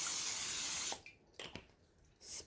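Cooking spray hissing from a can into an 8x8 baking pan in a home kitchen, one steady close burst lasting about a second, followed by a few light clicks and a short softer spritz.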